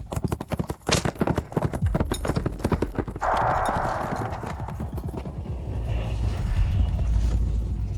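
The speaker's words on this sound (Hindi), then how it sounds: "मिसाओ का घोड़ा भाग गया।" A horse's hooves clatter in rapid, loud clip-clops, a quick running rhythm that carries through the whole passage, with a brief rushing noise midway and the pounding growing heavier toward the end.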